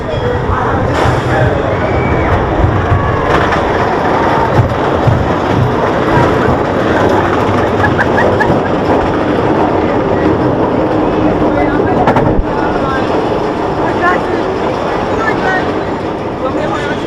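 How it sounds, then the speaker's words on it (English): The Road Runner Express roller coaster at Six Flags Fiesta rolls along its track, a loud continuous rumble and clatter of the train with riders' voices mixed in throughout. "Dispatching train, riders sit back, face forward, and enjoy your ride."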